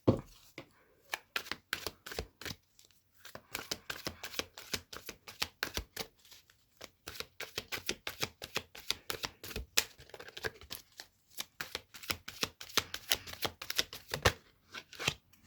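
Rapid riffling clicks of a tarot deck being shuffled, in repeated bursts with brief pauses, close and crisp.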